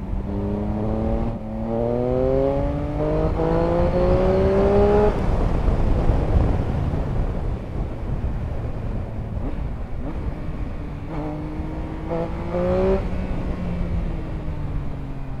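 A Triumph Speed Triple RS three-cylinder motorcycle accelerates hard through rising revs, with repeated upward sweeping engine notes, a drop between gear pulls and another surge, loud and close throughout.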